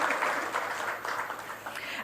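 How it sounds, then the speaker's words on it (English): Dense audience applause at a brand launch conference, a crowd clapping loudly and continuously throughout, with faint cheering mixed in. "Let's have a huge round of applause to begin on an exciting note"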